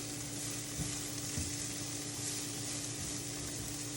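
Cauliflower rice stir-fries in olive oil with salt and pepper, giving a continuous soft hiss with a couple of brief stirring scrapes, steady and moderately quiet, no voices.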